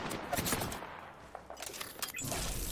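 PUBG gunfire cracks in quick bursts during a firefight, close and sharp, with a voice speaking between and over the shots.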